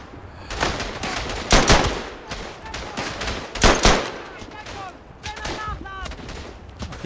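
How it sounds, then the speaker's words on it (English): Gunfire in the WWI shooter Verdun, with repeated rifle and machine-gun bursts, some close and loud, others more distant, over busy battlefield noise. "He's shooting at me."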